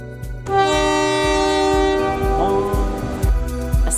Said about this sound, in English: A scenic train returned us back to Cairns.